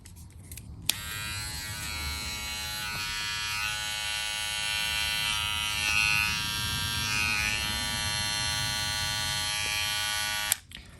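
A VGR V-192 cordless hair clipper switches on with a click, hums with a steady high-pitched buzz for about ten seconds, then clicks off.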